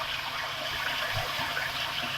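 Hands rinsed under running water in a home kitchen while cooking potato thoran, a steady close hiss of splashing water with no speech.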